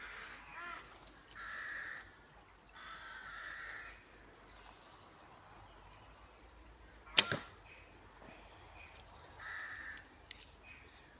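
A single sharp arrow from a Korean bow thwacks into a target near the middle, while crows caw repeatedly in the background before and after.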